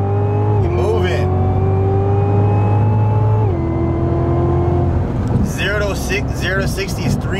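A Cadillac sports car with a turbo, capable of 200 mph, pulls hard, its engine droning loud and close with rising harmonics and a shift partway through, and a voice is heard over it near the end.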